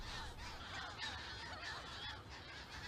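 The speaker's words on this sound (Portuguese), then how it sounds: "existe a maior colónia reprodutora de gaivota Audoin em Portugal" A breeding colony of Audouin's gulls on a Ria Formosa barrier island calls continuously, a dense overlapping mass of harsh cries at moderate distance with no talk.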